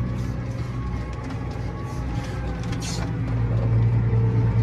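Tractor steering itself by GPS while carting silt up a field, a steady low engine drone with rattling from the cab, rising slightly toward the end.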